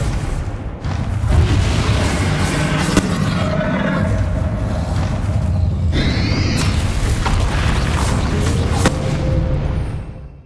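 A Confringo spell explodes in Hogwarts Legacy, a loud booming blast with a roaring, rumbling sustain that fills the whole stretch, broken by a brief whooshing burst midway.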